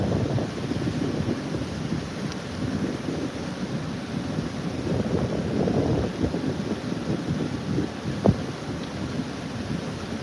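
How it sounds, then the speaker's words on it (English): Gusty wind by a river during fishing, a loud continuous buffeting rush across the microphone with swelling gusts and a brief knock, no speech. "Wind's picking up"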